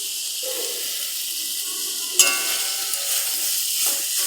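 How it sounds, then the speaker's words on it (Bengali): Spice masala fries in a wok for a homemade chicken stew, giving a continuous close sizzling hiss broken once by a sharp clatter from the stirring. "এভাবে আস্তে আস্তে নাড়তে থাকবো, নাড়তে নাড়তে দেখবো যে মশলাটা ভাজা হয়ে গেছে"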